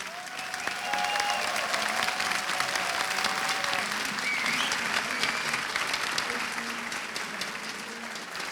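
Esports arena crowd at ESL One Katowice 2015 applauding loudly and steadily after a Counter-Strike semifinal game between Fnatic and Virtus.Pro, with sustained clapping and cheering that tapers slightly toward the end.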